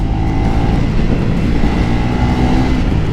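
A Triumph Speed 400 motorcycle accelerates steadily on the road during a test ride, its engine note loud and close with a continuous rising drone and no talking.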